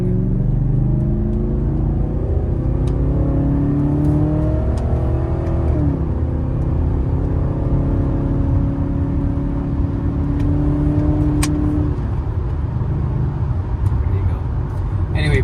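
A 1995 BMW 840ci E31 in a lower gear, engine and muffler giving a steady deep rumble with rising revs, heard from inside the car under continuous talk throughout.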